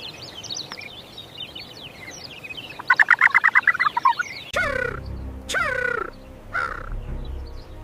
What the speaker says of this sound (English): the bird sounds the alarm